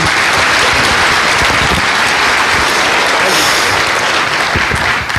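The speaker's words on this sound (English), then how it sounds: "Give Sean a round of applause." Loud, dense audience applause for Sean at a motivational session, a steady unbroken wash of many hands clapping close by for the full length, with no voices standing out.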